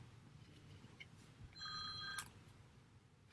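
A mobile phone rings faintly in a quiet room: a short burst of bright electronic ringtone tones lasting under a second, with no talk.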